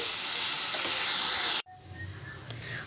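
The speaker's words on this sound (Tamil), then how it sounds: "நல்லா கிண்டி விட்டுக்கோங்க" Drumstick leaf stir-fry with grated coconut in a pan, a loud steady sizzle that cuts off abruptly, followed by softer scraping and faint sizzling as the mixture is stirred, no talking.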